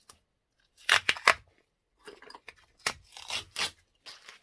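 Tape is peeled and pulled from inside a magnet in short bursts of crackling, ripping sound, two clusters of sharp tearing strips separated by brief pauses, close and fairly clear with no talking.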